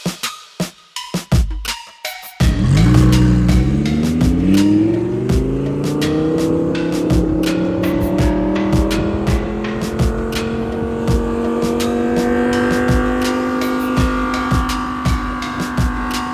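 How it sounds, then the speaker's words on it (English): A 2019 Lamborghini Huracan fitted with a carbon fiber body kit starts up with a sharp bark and clicks, then rises into a loud, steady engine drone as it rolls out of the garage, with rhythmic ticking throughout. "Let's pull the car outside and take a final look"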